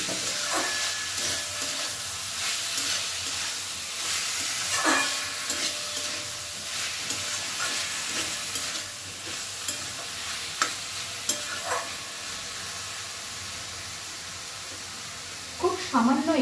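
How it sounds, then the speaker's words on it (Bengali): A spoon stirs drained, mashed banana flower into spiced rice in a sizzling pan for mochar ghonto, with a continuous fry hiss broken by scraping strokes and a few sharper knocks near the end. "এখন আমি জল ঝরিয়ে চটকে রাখা মোচাটা দিয়ে দিচ্ছি। মোচাটা দিয়েও কিন্তু খুব ভালো করে মিশিয়ে নিতে হবে সমস্ত কিছুর সাথে।"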